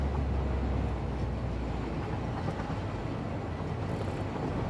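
A train rides along rails in the game Satisfactory, a steady, low, broadband rumble that stays constant and fairly quiet for the whole stretch, with no voices.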